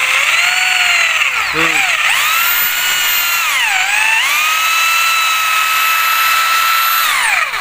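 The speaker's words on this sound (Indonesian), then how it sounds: "Ini dilakukan pengeboran dulu." A power drill whines loudly and continuously, its pitch dipping and rising as it bores into a longan tree trunk, close up for several seconds.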